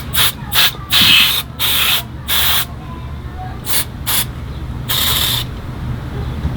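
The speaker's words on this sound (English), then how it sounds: "I'm gonna first use a brake cleaner" Brake cleaner hisses from an aerosol can onto the chain of a Surron electric bike, in a series of short close bursts of varying length, with a faint steady hum underneath.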